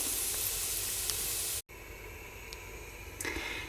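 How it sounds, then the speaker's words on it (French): Vegetables for watercress soup sautéing in melted butter: a dense, bright sizzle that cuts out sharply for a moment, then comes back softer, with a few light stirring taps near the end. "vous les faites revenir dans le beurre fondu je dirais 2 minutes"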